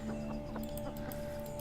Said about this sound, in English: Headstrong hen, that one.